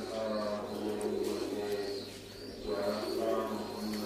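Sialkoti pigeons coo in a low, steady murmur, the soft calls swelling and fading across several seconds at a moderate distance.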